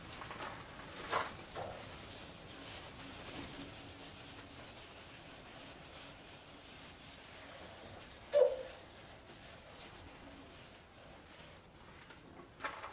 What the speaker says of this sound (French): je vais poncer légèrement au 800 ma base mat